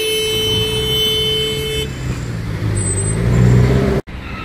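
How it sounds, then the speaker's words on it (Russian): A street traffic jam of cars idles with a steady road rumble, and a sustained car horn tone sounds before it cuts off abruptly near the end. "Видите, за какую-то минуту вот такая вот пробка здесь образовалась."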